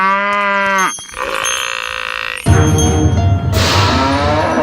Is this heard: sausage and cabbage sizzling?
no